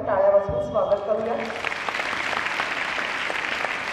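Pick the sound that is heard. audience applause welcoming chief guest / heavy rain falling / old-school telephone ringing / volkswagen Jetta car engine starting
audience applause welcoming chief guest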